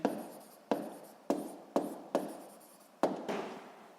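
Writing by hand during a physics lesson: a series of about seven distinct scratchy pen or chalk strokes, each a sharp onset fading out, spaced irregularly and close by.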